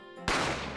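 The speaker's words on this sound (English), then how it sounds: "I didn't have time to think about where the sound of the gunshot had come from." A single sharp gunshot effect from The Great Ace Attorney, loud and close, cutting in abruptly after a held musical tone and ringing out into a broad, decaying noise tail.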